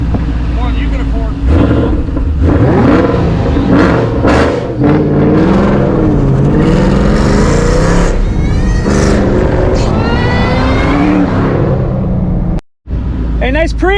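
A Ford Shelby GT500, S197 generation, revs its engine in loud, close, rising and falling sweeps that run continuously under people talking nearby.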